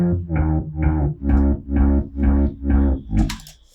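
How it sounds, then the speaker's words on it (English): A distorted electronic bass guitar line repeats a steady pattern of evenly paced notes, with short sliding notes between them, loud and close, ending with a brief bright glitchy burst. "Kind of gives it that feel like you're sliding your fingers down on the guitar"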